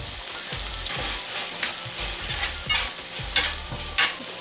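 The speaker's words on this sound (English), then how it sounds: "Keep stirring and keep cooking. This is now cooking with the onion." A pan of lamb curry with onion and tomato sauce is stirred steadily, a constant sizzle running beneath repeated scraping strokes of the spoon, close and moderately loud with no voices.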